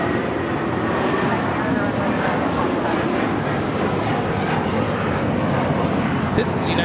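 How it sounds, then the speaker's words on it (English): A Boeing 757-300 jet airliner taking off at LAX, a loud continuous engine roar that holds steady throughout, with a voice talking over it. "taking off to Washington Dulles on the 757-300"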